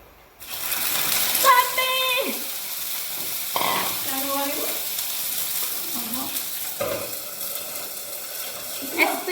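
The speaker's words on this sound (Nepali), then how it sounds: "मैले चाहिँ तेलमा खुर्सानी हाल्छेको छ" Green chilies dropped into hot cooking oil hiss and sizzle loudly and steadily at close range, with stirring clatters and a few bursts of louder spitting, while speech-like tones surface now and then.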